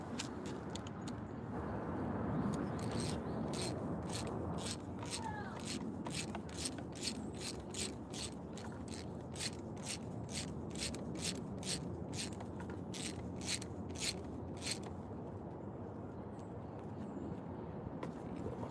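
A wrench ratchets bolts tight in a run of rapid, evenly spaced clicks, close and fairly loud, over a steady low rumble of background noise, with no talking.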